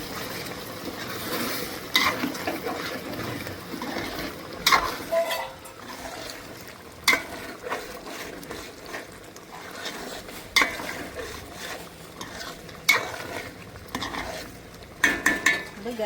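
A spoon stirs prawn biryani in a cooking pot, with soft scraping and irregular sharp metal clinks of the spoon against the pot over a low background sizzle.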